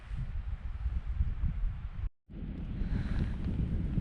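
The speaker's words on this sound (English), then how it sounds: "Now the wind picks up and will come to us." Strong wind gusting in a winter snowstorm in a Glen Coe valley, a loud broad roar buffeting the microphone, cut by a brief silent gap before it returns.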